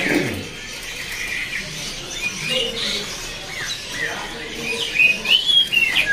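An oriental magpie-robin (kacer trotol) sings bright, varied chirps, whistles and squawky phrases at close range, growing busier toward the end, with faint voices in the background.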